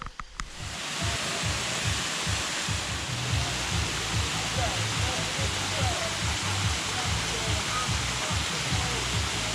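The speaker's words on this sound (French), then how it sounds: "le bruit de la cascade" Waterfall in wild Serbian countryside, a constant broadband rushing roar that holds steady throughout, with faint low pulsing underneath and distant chatter from a group of picnickers partly masking it.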